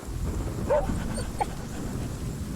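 A dog whimpers in the Pillars of the Earth video game, two or three faint high whines over a steady low background hum.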